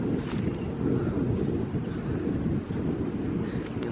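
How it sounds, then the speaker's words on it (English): Strong wind roars across the microphone in an old country cemetery. It makes a dense, steady rumbling buffet with no pauses and no voices. "there is so much wind"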